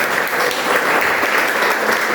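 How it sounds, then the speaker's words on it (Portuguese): Church congregation applauding during a worship service held in a garage, a dense burst of many hands clapping together, loud and close, with no voices over it. "E se pode, aplaude o nome do Senhor Jesus."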